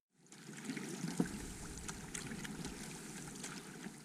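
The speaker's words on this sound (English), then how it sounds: "decided to furl the sails and start rowing it until I heated up again" Oars work a small sailing boat with furled sails across a cold December loch, giving soft, steady water swishing and gentle splashes close by with a faint knock, quiet and without voices.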